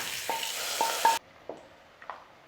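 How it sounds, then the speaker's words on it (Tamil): Hot tempering poured into sambar, a loud broadband sizzle for about a second that cuts off abruptly, followed by a few faint clinks and scrapes in a quiet kitchen. "இப்போ நம்ம தாளித்ததை சாம்பாரில் சேர்த்துக்கலாம்."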